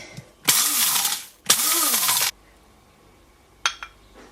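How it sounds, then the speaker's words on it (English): A small grinder whirs through dry gerbil food to turn it into powder: two close, loud bursts of under a second each, then quiet and a brief clink. "I'm going to put this in this kind of grinder type thing to make it into more of like a powder"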